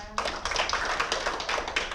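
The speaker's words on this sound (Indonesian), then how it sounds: "tepuk tangan untuk Bu Ringga" A small teaching-session audience claps for a presenter, a brief burst of dense, close hand claps lasting about two seconds.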